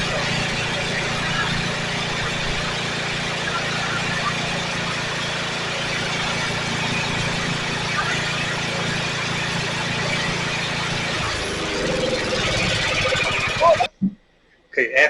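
A Generac 7000 EXL portable generator engine runs during oil-change repair work, a steady droning hum with a squealing, whining overtone that continues for about fourteen seconds before cutting off abruptly, followed by brief scattered sounds.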